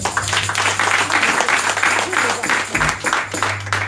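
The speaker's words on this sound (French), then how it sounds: "On acclame, s'il vous plaît." A church congregation claps and cheers loudly in steady, sustained applause, welcoming a woman who will interpret the sermon, with a low hum underneath throughout.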